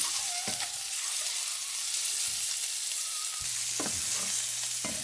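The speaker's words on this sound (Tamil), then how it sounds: "நல்லா புரட்டி கொஞ்சம் வதங்க விடுவோம்" Egg masala sautéing in oil, a continuous bright sizzle with a few scraping stirs and soft knocks of a spoon against the pan, close and steady, with no voices.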